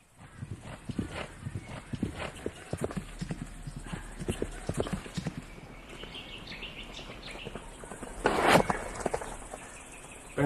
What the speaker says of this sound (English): When a horse is galloping,